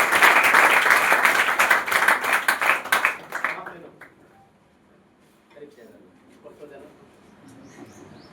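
Enthusiastic clapping fills a student award ceremony for Bihar Board toppers, loud and dense for about three seconds before it quickly dies away. A quieter room follows with scattered murmurs and faint chirps.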